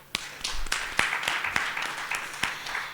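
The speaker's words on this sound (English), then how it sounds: "so let's clap for each other." Audience clapping for each other before a tea break at the SANBio Annual Event 2019 conference, a moderate, fairly steady patter of many hands with occasional louder individual claps.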